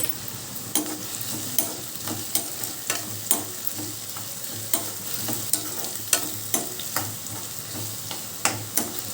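Onions and green chillies frying in peanut oil make a constant sizzle, punctuated by regular clicks and scrapes of a spatula stirring the pan, close and fairly loud throughout.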